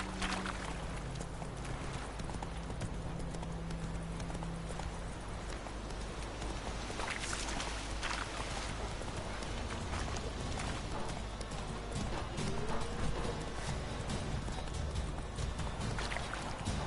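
Roach the horse trotting in The Witcher video game, a steady rhythmic clip-clop of hooves continuing throughout, moderately close, over ambient game background sound.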